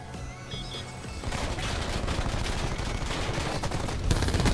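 Spitfire gunfire in a video game: after a brief quieter lead-in, a sustained rapid stream of shots rattles on steadily and loudly for several seconds without pause.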